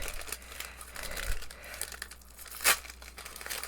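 Advent calendar package wrapping being torn open, with close crinkling and rustling of paper throughout and one sharp ripping tear near the end.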